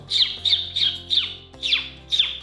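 A bird squawks repeatedly in loud, harsh bursts, about six calls spaced evenly, close by, with a faint low hum underneath.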